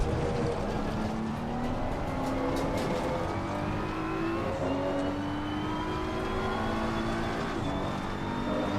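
Race car engine at Zolder in Assetto Corsa Competizione, a continuous whining drone that rises through the gears with steady acceleration, loud and close, no talking.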